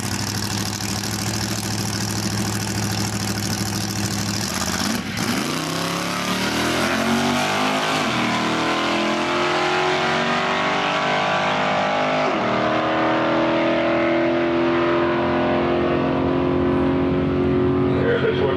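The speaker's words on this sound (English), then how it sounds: "Bill Horton from Newmarket with a 1970 Chevelle with a 355 power" A 1970 Chevrolet Chevelle drag car with a 355 engine idles loudly, then revs and launches, the engine note climbing through several sharp gear changes as it races away, with a voice speaking over it.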